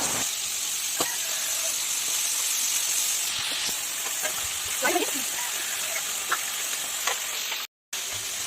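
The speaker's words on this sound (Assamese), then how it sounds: "এইফালে মাছ ভাজি আছে" Fish frying in a pan of oil with bay leaves for a curry, a continuous close hiss and sizzle with faint clinks, cut by a brief dropout near the end.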